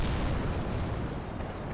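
A rocket explosion in the video game Kerbal Space Program, caused by solid boosters, produces a dense, roaring burst of broadband noise that rumbles on steadily and slowly fades.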